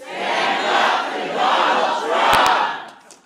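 A town hall crowd in Yakima shouts a loud unified response in swelling waves, many voices together, close and full, then fades out quickly at the end.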